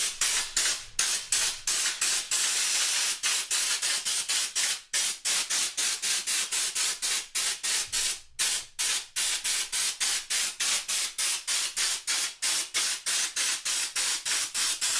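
A sprayer blasts projected cork coating onto a wall in a long series of loud, close hissing bursts, each separated by brief gaps in a steady rhythm.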